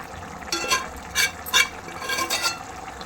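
Spoonfuls of boiled gongura leaves stirred into a simmering prawn curry, a few distinct scraping strokes around the pot over a soft, steady sizzle, close and moderately quiet.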